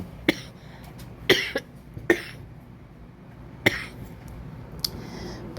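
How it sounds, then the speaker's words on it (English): Several sharp coughs spread out with pauses between them, a cluster of two or three near the start and a couple of isolated ones later, close and fairly loud. "I think I might have a little bit of a cough."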